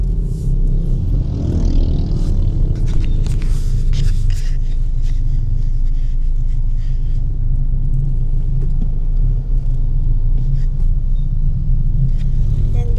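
Busy street traffic in Pampanga rumbles steadily and loudly around the listener, with passing engines, a motorcycle and scattered clattering knocks, and no clear talk over it.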